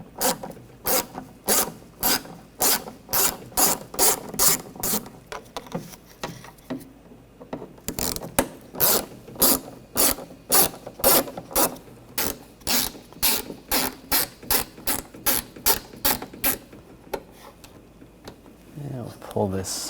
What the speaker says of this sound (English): There's 3 screws under here. You want to take those out. Use a T20 socket.